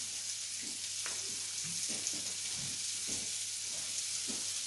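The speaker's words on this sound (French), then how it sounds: "Ma viande continue à rôtir." Beef meatballs fry in a pan, giving a steady, close sizzle and crackle throughout with no one talking.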